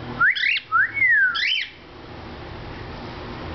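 A pet bird tries a wolf whistle, giving two rising-and-falling whistled notes close to the mic, the second longer and slurred, followed by quiet room noise.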